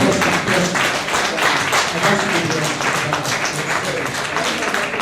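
An audience claps for two debate candidates as they take the podium, a steady crackling patter of many hands held throughout the moment.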